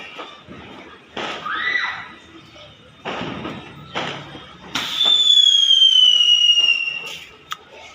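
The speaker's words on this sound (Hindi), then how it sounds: "ये लोग फटाके फोड़ने लगे" Firecrackers bursting at a Diwali celebration, heard as a few sharp thuds and bangs at varying distance, followed by a long rising whistle of a rocket-type firework and a final crack, with faint background voices.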